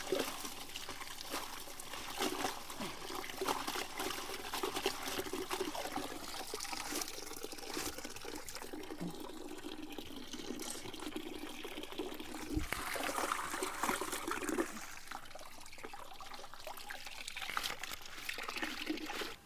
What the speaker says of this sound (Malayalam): പിന്നെ ഈ ബക്കറ്റിൽ ഇട്ട് കൊടുക്കാം ഓരോരോ ഇലയായിട്ട് കഴുകിയാലും കുഴപ്പമില്ല കേട്ടോ